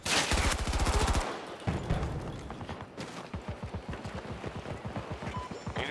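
Battlefield 2042 gameplay with PBX-45 gunfire: a dense rapid-fire burst up front, then a quick run of sharp, evenly spaced shots, loud and close with no talk.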